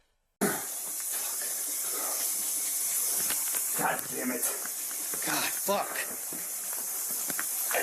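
Boiling water splashing and hissing, a loud continuous steamy hiss with sharp spattering bursts, under an agitated man swearing close by.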